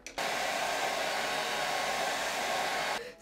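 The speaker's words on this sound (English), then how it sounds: "let me blow dry it again" Hair dryer blows steadily while drying hair, a close, loud whooshing hiss that switches on, runs for about three seconds, then switches off, with no talking.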